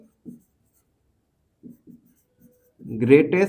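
A pen writing on paper during a math lesson makes a few short, soft scratching strokes in near silence, followed by a person speaking.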